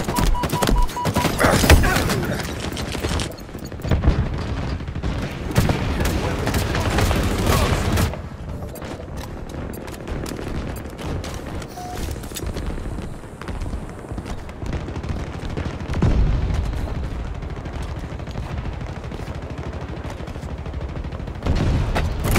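Bursts of gunfire ring out in a large-team video game battle, loud and rapid early on, then sparser shots and impacts over a steady background of combat noise.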